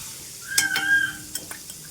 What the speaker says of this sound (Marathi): हा गूळ आपल्याला व्यवस्थित वितळून घ्यायचा ह्या बटरमध्ये